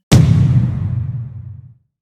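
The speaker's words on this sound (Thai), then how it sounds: "ป้อมปืนยิงไม่โดนหวานเจี๊ยบป้อมปืนยิงไม่โดนโอ้โหป้อมปืนยิงโดน" A single loud turret shot in the Roblox game Steal a Brainrot, a sharp close bang followed by a rumbling decay that fades out after about a second and a half.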